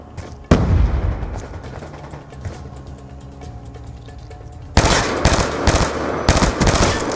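Black Ops 2 video game gunfire: a sudden loud burst opens, then lighter scattered shots, and a dense rapid stream of automatic fire near the end, close and harsh.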